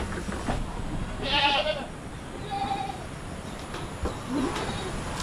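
Goats on a farm bleat in a few short calls, one clearer cry standing out over a noisy outdoor background, with no talk.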